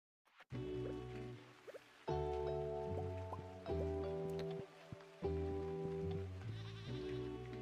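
A baby goat in the video game Stardew Valley bleating amid the game's music, a tonal melody of sustained notes in three phrases with brief pauses and light dripping effects between them.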